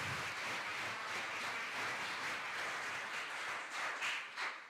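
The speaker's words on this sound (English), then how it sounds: "I would like you to give a warm applause to our two fantastic panelists." Warm audience applause for two panelists at a morning conference session, a fairly faint, dense wash of clapping that holds steady and swells slightly near the end.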